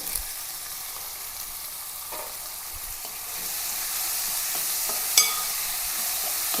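Onions, shallots, green chilli, crushed ginger and garlic, and curry leaves sauté in a pan with salt. A constant close sizzle grows slightly louder partway through, with occasional light stirring scrapes and one sharp clink.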